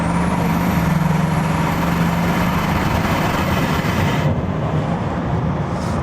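A Bugatti Chiron accelerates hard with its window open, a loud, sustained engine roar and rushing wind filling the cabin, rising in intensity before easing slightly near the end, with no talking.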